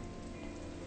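Heavy rain pours in a steady, dense roar with no breaks, moderately loud and with no one speaking over it.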